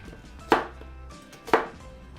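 A knife slices through one medium onion on a cutting board, two crisp, close chops about a second apart over quiet kitchen background, with no talking.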